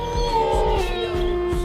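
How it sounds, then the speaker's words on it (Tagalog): A dog howls in a long, sustained, wavering tone at night in a local neighbourhood, loud and close, with faint rhythmic knocking beneath it. "Yan na naman yung alulong ng aso."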